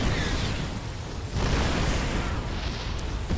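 Seeker missiles slam into tanks in a StarCraft 2 Terran versus Terran match, a dense, roaring rumble of blasts with surging bursts, loud and continuous.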